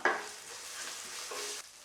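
A brief burst of sizzling as onions sauté in a hot pan with curry leaves, stirred lightly, the frying hiss rising and fading over a couple of seconds.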